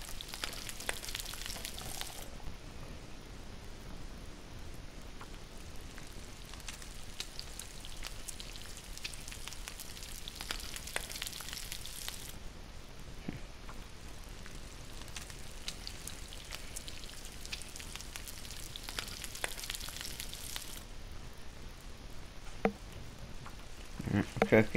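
Meat cooking in The Long Dark video game: a steady, quiet sizzle like rain hissing in a pan, with a faint crackle, running on without a break.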